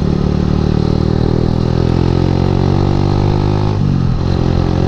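A motorcycle engine runs loudly and close with a steady buzzing drone and slight shifts in pitch, heard alone without talk.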